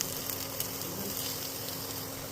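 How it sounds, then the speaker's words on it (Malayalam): Onions sautéing in a pan, with a dense, even sizzle throughout and a faint steady hum underneath. "സവാള ആദ്യമേ തന്നെ നന്നായി വഴറ്റുക."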